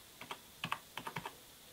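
Keys clack on a computer keyboard as a short command is typed, about a dozen light, quick, close taps in uneven rhythm with no one speaking.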